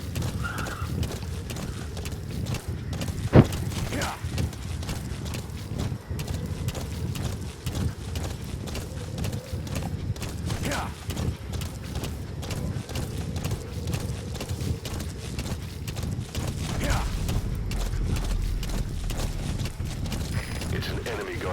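Horse hooves clip-clop in the video game Metal Gear Solid V, a steady galloping rhythm running throughout under game ambience, with an occasional whinny and someone talking over it.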